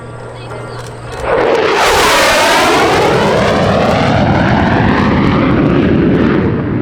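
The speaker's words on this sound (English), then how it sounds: "Comes in for another high-speed pass." A P-51 Mustang and an F-16 Fighting Falcon make a heritage flight high-speed pass at the Cleveland airshow, a loud roaring jet sweep that rises abruptly and holds with a sharp Doppler shift as they pass close.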